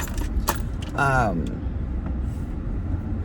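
Car keys jangle inside a car over a steady low road rumble, with voices talking in the background.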